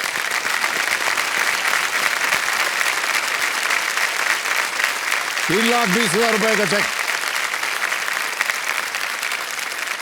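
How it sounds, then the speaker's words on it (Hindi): Studio audience applause on the KBC quiz show, a steady dense clapping that fills the whole stretch, with a host's voice speaking briefly over it midway and a short musical sting. "तालियां बज जाएं इनके लिए।"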